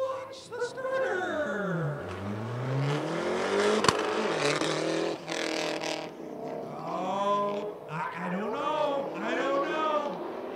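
A Cobra Shelby Mustang and a tuned Mazda launch in a spectator drag race at Rockford Speedway, their engines revving up and down in rising and falling sweeps, fairly distant beneath a commentator's voice.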